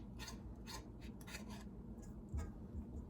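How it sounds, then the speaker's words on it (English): A knife scrapes thick maple cinnamon cookie dough off a spoon, giving a series of close, rasping strokes in short bursts with a few soft knocks, no talking. "I'm gonna use my knife again and scrape off my spoon."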